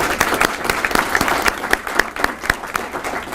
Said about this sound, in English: let's give her a round of applause for all of her hard work